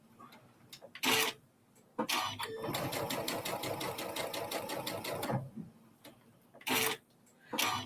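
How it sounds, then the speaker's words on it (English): A sewing machine stitches in a long, fast, even run of close mechanical ticking and whirring, bracketed by short bursts and pauses. Faint talk can be heard at the quiet edges. "I really think I was sewing a little too slow."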